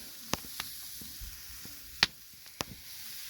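Steaks sit on a lightly oiled grill grate over hot coals, giving faint, sparse sizzling with a handful of sharp pops and crackles spread over a quiet background.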